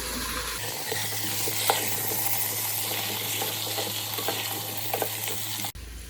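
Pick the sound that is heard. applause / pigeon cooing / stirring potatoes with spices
stirring potatoes with spices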